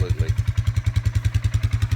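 A new Polaris Sportsman 4x4 ATV with a quiet exhaust idles close by in a steady, even thumping pulse with a faint mechanical clatter.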